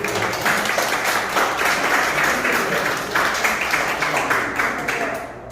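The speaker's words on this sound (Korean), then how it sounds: "박수 한번 보내주세요." An audience at an art exhibition opening applauds, a loud, continuous burst of many hands clapping nearby that swells slightly and then tapers off at the end.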